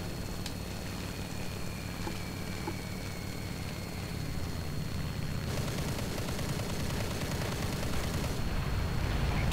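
Continuous heavy rumble of repeated booming cannon fire and blasts in a video game, dense and loud throughout, with no talking.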